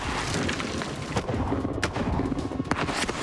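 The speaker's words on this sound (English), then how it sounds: "After 2 shots, the rifled gun is already demonstrating its superiority." A rifled artillery gun fires, and heavy, rumbling booms roll across open ground. Sharper cracks and reverberating thumps recur through a dense, noisy wash of sound, with no voices.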